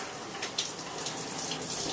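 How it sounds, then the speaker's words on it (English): A shower runs steadily, rushing water spraying continuously at close range, a dense hiss with no voices. "And I'm in my shower now."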